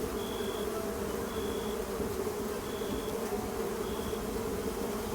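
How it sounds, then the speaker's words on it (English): A swarm of bees hums constantly in a medieval colony-management game, loud and close, with a thin high tone pulsing in at regular intervals over the unbroken drone. "Oh god, bees."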